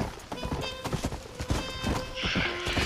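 Horse hooves clip-clop steadily as a horse-drawn cart rolls through the Red Dead Redemption video game, with a horse neighing partway and people talking over the game sounds.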